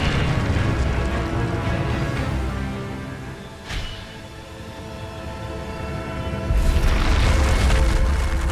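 Incendio fire spell cast in Hogwarts Legacy: a dense, roaring rumble with a sharp flaring burst partway through, then a louder swell of crackling roar near the end.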